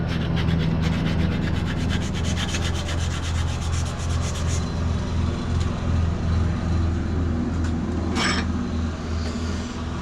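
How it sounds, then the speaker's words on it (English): Sandpaper rubs briskly over a hand-forged steel screwdriver in rapid back-and-forth strokes, loud and close, over a constant low hum. "I'm going to quickly take my sandpaper to get this shiny again."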